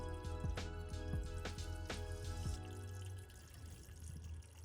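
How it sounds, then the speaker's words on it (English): Coolant drains from a Husqvarna FC350 supermoto motorcycle in a workshop, a steady close splashing trickle with a few sharp drips early on that settles into a smoother flow. "Now we're going to pick the bike up and drain the coolant so I can remove the water pump and get under the clutch cover."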